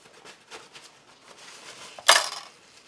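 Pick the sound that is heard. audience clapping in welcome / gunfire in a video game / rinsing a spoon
rinsing a spoon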